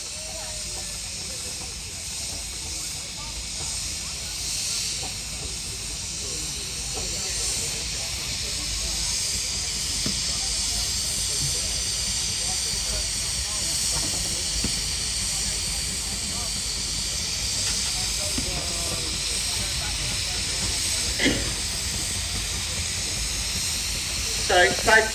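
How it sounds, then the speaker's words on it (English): A 9-inch scale Foden steam lorry passes at a steam and vintage rally, releasing a long, steady hiss of steam that swells slightly as it goes by, with a voice speaking over the hiss. "number 14 coming past me now. The 9-inch scale Foden steam lorry."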